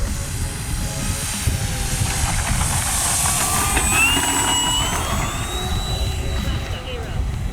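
A giant P-51 Mustang warbird model airplane lines up and comes in to land in light wind, its engine droning steadily with a shifting pitch throughout while someone talks over it.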